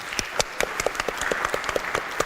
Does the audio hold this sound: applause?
yes